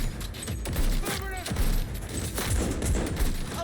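Gunfire in the video game Cyberpunk 2077, several sharp shots and bursts cracking over busy combat noise and mechanical clatter, with voices talking throughout.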